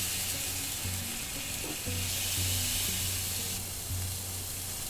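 Pork sizzling as it sears in a hot pan for crock pot pulled pork, a steady close frying hiss with brief low hums underneath, no voices.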